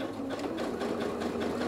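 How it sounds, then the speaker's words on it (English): A sewing machine stitches a narrow bar tack on a sweatshirt, running in a fast, steady mechanical whir of rapid needle strokes close up. "I'm just doing a little bar tack right over where I top stitched and then kind of locking it in place"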